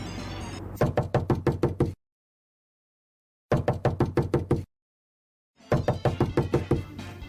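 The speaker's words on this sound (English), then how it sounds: "that was the sound of someone knocking on the door" Someone knocks on a door in three separate bursts of rapid, sharp raps, each a quick run of about seven knocks, with silent gaps between and no voices.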